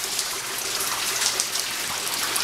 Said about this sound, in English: Got a pan here to catch some of the water. It's coming from the ceiling directly above the master bathroom tub.